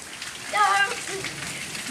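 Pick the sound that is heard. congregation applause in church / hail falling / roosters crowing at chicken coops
hail falling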